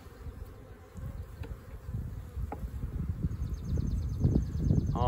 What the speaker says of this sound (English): All plumb full of bees.